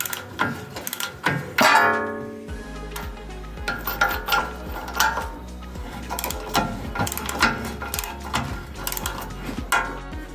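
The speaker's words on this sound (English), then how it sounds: "Remove the bolts of the ball joint." Ball joint bolts being loosened on a Toyota Land Cruiser front suspension: a loud metallic clank, then a long run of rapid, rhythmic ratchet clicks with occasional tool clinks, close up and without talk.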